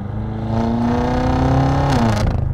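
A BMW M6 with its exhaust flaps open roars loudly on a downshift, the engine note sweeping and rising in a sustained close-up growl with a brief crackle near the end.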